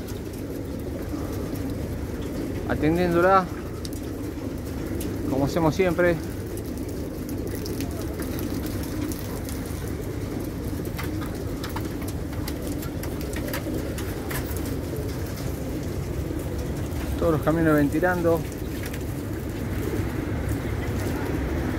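Racing pigeons coo in three short rolling bursts as they are given water in a loft before release, with someone talking steadily throughout over a low rumbling background.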